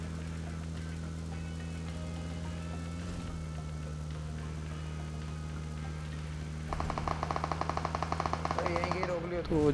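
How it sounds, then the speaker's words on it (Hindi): Rapid automatic gunfire erupts in a mobile battle royale game during a 2 vs 2 ranked match, loud bursts arriving near the end over a steady droning background hum and game sounds. "यहाँ गोलियों के साउंड्स आने स्टार्ट हो जाते हैं"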